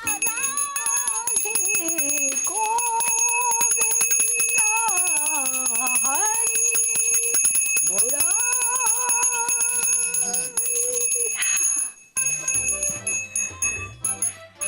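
A hand-held prayer bell rings loudly and continuously with wavering, shifting tones for several seconds, then cuts off abruptly near the end.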